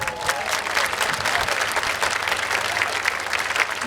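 An audience at an eighth-grade moving up ceremony claps steadily, a full and continuous burst of applause with no voices rising above it.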